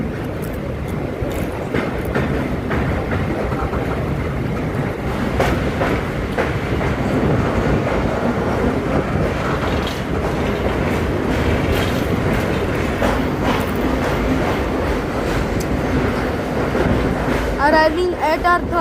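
Slow Mumbai Harbour line local train rolling across a bridge more than 100 years old, with the Central Railway running below. A continuous loud rumble of wheels and rattling carriages goes on with wind buffeting the microphone, and faint voices are heard.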